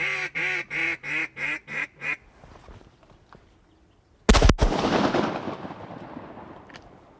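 Shotgun fired during a duck hunt: one sharp, loud blast that dies away into a long, rough roll, coming after a run of repeated duck quacks.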